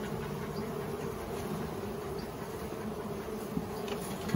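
A dense, steady buzz of honey bees leaving a crowded backyard beehive during a honey harvest, a continuous hum with no break and no voices over it.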